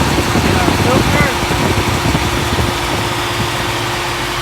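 A 1966 Ford Mustang convertible engine idling with its cooling fans running, a loud steady low rumble with broadband fan rush, fairly close, with talking over it.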